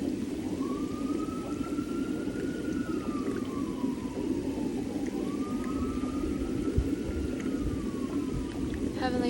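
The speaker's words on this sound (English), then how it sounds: "King of all kings, Lord Jesus, Father God, I pray for the paramedics in the ambulance, Lord." An ambulance siren wails in two long rising-and-falling sweeps under a steady roar of rain, sounding somewhat distant.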